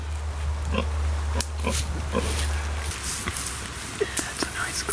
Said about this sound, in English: These are Berkshire pigs.